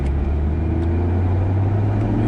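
A 2006 Ford GT cruising smoothly, its engine and exhaust producing a steady low drone and rumble from inside the car, even and unrevved throughout.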